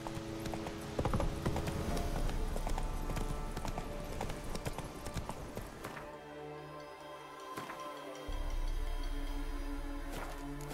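Roach, a horse in The Witcher 3 played on PC, gallops with rapid rhythmic hoof clip-clops over ground, slowing and changing surface partway through, joined by faint game sounds.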